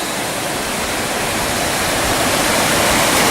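A waterfall on the GR20 trail in Corsica pours into a deep rocky pool, a dense, steady rushing roar that fills the whole clip at close range with no voices.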